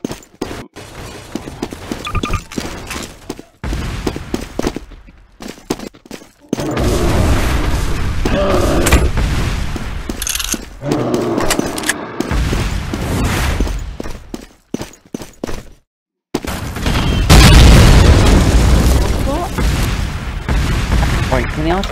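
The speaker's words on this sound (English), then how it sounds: "Artillery strikes be like cannon strikes from the castle." Cannon and artillery strikes from a castle in a crusades roleplay video game, loud booming blasts and rumbling impacts in bursts across the scene, with people talking over them.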